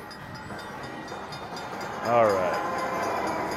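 Train sound effect from a slot game, a brief rising horn-like chime swelling for about half a second over steady game music, with someone talking briefly around it.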